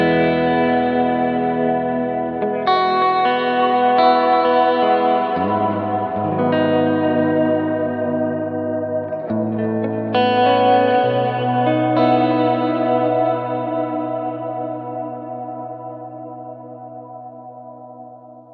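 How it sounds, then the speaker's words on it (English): Sustained guitar chords through a Kemper ring out with heavy dotted-eighth repeating delay echoes, mix set high, and a wash of reverb, the tail slowly fading at the end. "The other one I'm going to turn on is this extra delay up front, and it's a dotted 1/8."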